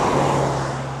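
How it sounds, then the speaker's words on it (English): Road traffic rushes past a person out walking, a broad steady roar of cars nearby, loud and continuous, with no talk. "I got cars trying to run me over."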